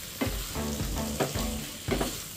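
Pasta cooking in a pan, a steady close sizzle with soft periodic scraping strokes as it is stirred, no voices.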